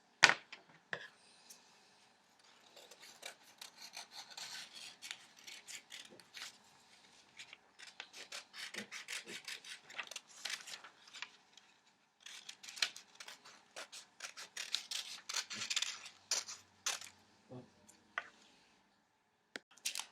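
Scissors snip out a purple paper dress shape in a series of crisp, uneven cuts and paper rustles, close and fairly quiet, with pauses between bursts of snipping.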